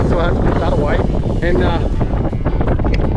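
Strong wind at Osprey Beach buffets the microphone in loud, continuous gusts while someone talks over it the whole time.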